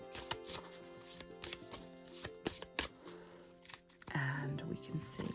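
A deck of cards riffles and snaps in several quick bursts close by, ending in a louder, sustained flutter.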